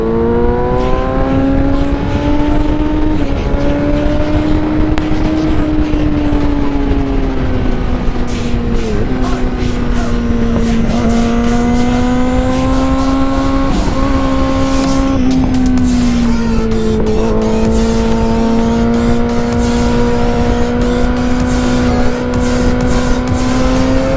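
Car engine held in third gear, revving loud and close inside the cabin, a steady droning note that rises and dips for over twenty seconds without a break.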